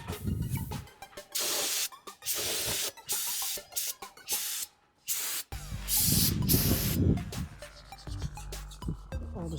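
Brake cleaner is sprayed in repeated loud hissing bursts onto rear brake parts of a car, each blast about half a second to a second long and separated by short gaps, followed by metallic clinks and handling noise.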